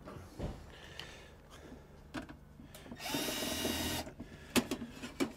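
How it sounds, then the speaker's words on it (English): A power drill bores through 75 mm Legrand plastic trunking in one whirring burst of about a second, close up. Clicks and handling knocks from the tool and the workpiece come before and after it. "and uh, we drill again"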